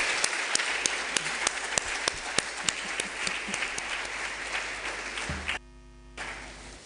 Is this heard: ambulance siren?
no